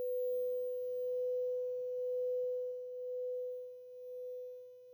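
Two steady pure tones a little apart in pitch combine into one hum that swells and fades in slow periodic beats, loud to quiet, alone with no talk.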